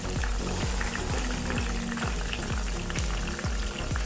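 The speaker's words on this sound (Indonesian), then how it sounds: "Nah ini tinggal goreng sampai kering." Banana slices deep-fry in oil for chips with a loud, constant sizzle and crackle, close up, with faint rhythmic knocking underneath.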